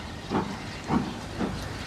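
A model steam locomotive, the King Arthur class engine Excalibur, gives off three rhythmic soft hissing chuffs in a steady beat over a constant background hiss.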